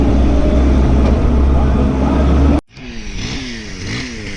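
A Stihl 661 chainsaw engine runs loud and steady close by, its sound dropping out sharply about midway, then resuming as a revving, pulsing drone with rhythmic rises and falls.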